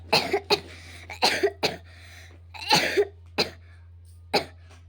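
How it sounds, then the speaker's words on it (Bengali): A series of harsh, close coughs in irregular bursts, some doubled, over a steady low hum. "আরে তোর আজকে এত কাশি হচ্ছে না কেন রে?"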